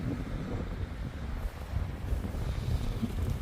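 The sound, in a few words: wind on the coast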